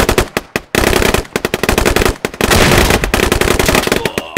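Rapid, loud automatic gunfire in the military shooter Squad, sharp close bursts broken by brief pauses, then a sustained rattling stream of shots.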